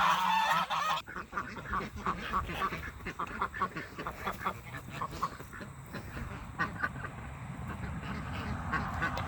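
Geese honk repeatedly nearby, with ducks quacking in a busy, overlapping chorus that continues throughout.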